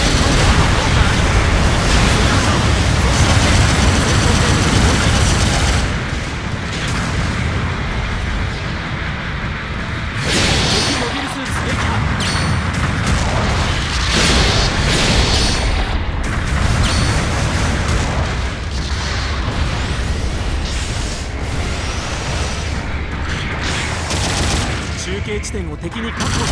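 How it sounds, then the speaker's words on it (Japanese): Support artillery explosions boom and rumble in a dense, loud barrage in the video game Agguguy Battle 2, with gunfire crackling throughout and game voices talking over the continuous din. "後方部隊からの支援砲撃が来ます。"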